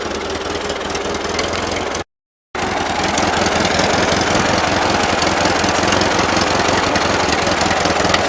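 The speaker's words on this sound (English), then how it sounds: "I mean it's idling, but you can tell it's not happy." A 1941 Ford 9N tractor engine idles roughly and unevenly, its steady loud chugging knocking briefly cut by a gap of silence before resuming for several seconds, with no voices.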